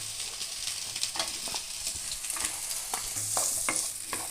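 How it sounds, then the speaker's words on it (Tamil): Onions sauté in a pan for chana masala gravy, giving a continuous moderate sizzle with repeated light scraping strokes of a stirring spoon. No voices are heard. "இப்போ வெங்காயத்தை நல்லா வதக்கிக்கலாம்"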